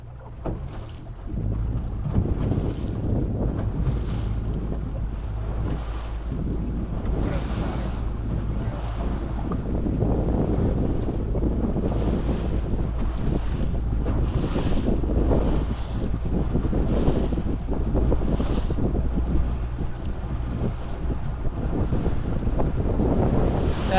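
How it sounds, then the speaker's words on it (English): An outboard motor on a fishing boat runs with a steady low drone under heavy wind buffeting and water noise, continuing evenly throughout. "I'm going to go ahead and give her a little throttle"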